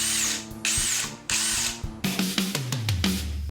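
A DeWALT DCD803 or Milwaukee M12 compact cordless furniture screwdriver whirs in short close bursts, spinning up and down several times with pitch sliding as the motor loads and slows, no talk.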